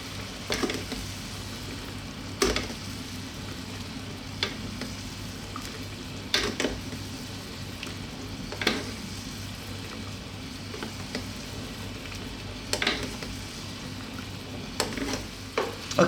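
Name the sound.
salmon frying in lemon butter sauce, basted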